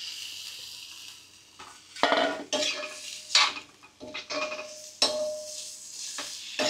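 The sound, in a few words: stir-frying mutton with red masala in a pan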